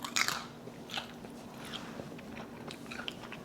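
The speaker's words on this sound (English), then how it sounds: "Let's try this asparagus." Someone bites into crunchy asparagus seasoned with smoked paprika, giving one sharp, close crunch followed by softer chewing crackles.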